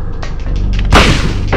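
A shotgun fires in Silent Hill with one loud, sharp blast near the middle, preceded by softer clicks and thuds, with the boom tailing off briefly afterward.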